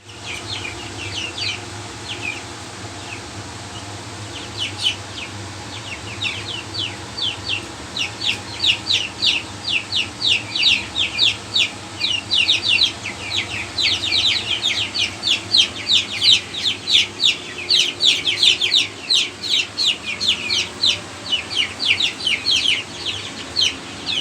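Many chicks peeping and clucking in rapid, overlapping bursts, growing busier toward the end, over a low steady background hum.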